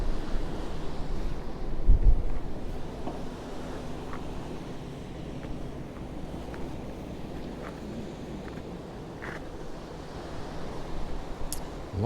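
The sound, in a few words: turbulent sea waves at Portals Nous beach, Mallorca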